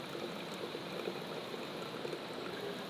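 Water trickles and streams steadily through a Katadyn BeFree 3-litre squeeze filter beside a gorge in the wild Australian outback, a soft continuous flow with no talking.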